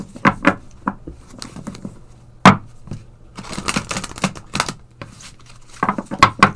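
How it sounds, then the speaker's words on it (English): Tarot cards being shuffled by hand, a string of crisp riffling snaps and soft slaps in irregular bursts, close and clear with no voice. "And as I was shuffling"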